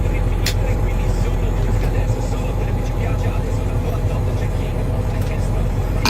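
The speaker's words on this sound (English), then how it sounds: "Night farming. Bright lights, big tractor." Heavy vehicle engine rumble from a big farm tractor working at night, a steady loud drone held throughout, with faint voices mixed in.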